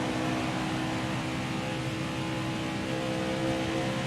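NASCAR race car in NASCAR Heat 4 held at the rev limiter on a fast qualifying lap, a steady, loud, unbroken engine drone that stays flat and strained throughout, with no talk over it.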